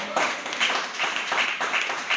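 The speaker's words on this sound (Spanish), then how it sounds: "Denle un fuerte aplauso al Señor." Church congregation applauding in steady bursts of clapping, moderately loud and continuous, with faint voices mixed in.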